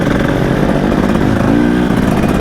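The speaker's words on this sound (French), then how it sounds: "Un son de mobilette que l'on aime tellement" A KTM 300 EXC 2025 two-stroke enduro motorcycle engine runs loud and close, a buzzing, raspy drone with a brief rise in revs midway, and no voices over it.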